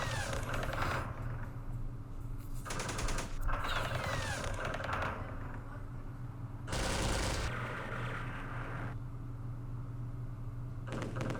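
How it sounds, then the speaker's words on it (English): Machine gun fire in a Vietnam war strategy game, set in the Mekong, comes as several long rattling bursts over a steady low rumble, loud and dense with brief pauses between volleys. "there was a machine gun in there too"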